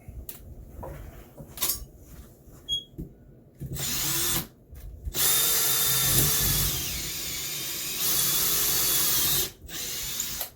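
A power drill whines in short bursts, then bores into a wall in longer loud runs with brief pauses between, close by and with no talking.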